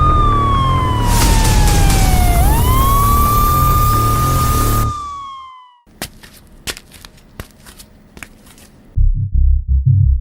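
A person whistles in imitation of a police siren, a loud sustained rising and falling wail lasting about five seconds, followed by scattered clicks and knocks and a few low thumps.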